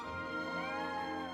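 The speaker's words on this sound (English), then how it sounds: "That is a cat!" A cat meows inside the video game Triangle Strategy, a drawn-out tonal cry that rises and bends, heard over a dense bed of sustained game music at moderate level.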